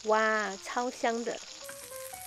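Steak sizzles in a pan as melted butter with garlic is spooned over it, a steady hiss running under a person's excited voice.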